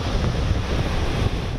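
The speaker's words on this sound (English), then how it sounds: "White caps and on and off rain showers keeping most people out of the water on Dauphin Island." Rough, whitecapped Gulf surf and gusty wind on Dauphin Island during a tropical system roar as a steady, loud wash of crashing waves and wind buffeting the microphone, with no voices.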